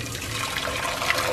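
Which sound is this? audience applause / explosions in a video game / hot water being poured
hot water being poured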